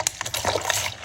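An electronic makeup brush cleaner spins brushes in water, producing a continuous churning, splashing swish with small bursts of spatter, close and steady for about a second, with no talk.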